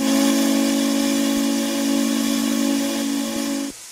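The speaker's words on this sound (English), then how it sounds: "we're about to listen for this, the 611 Class J whistle first" A 611 Class J steam locomotive whistle in a video game blares in one sustained, loud chord-like tone with a hissy edge, cutting off abruptly near the end.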